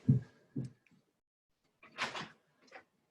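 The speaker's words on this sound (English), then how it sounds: "there's somebody coming in the door" A door opens as someone enters a home: a couple of soft thumps and knocks, then a brief rattling scrape of the door, all fairly faint in a quiet room.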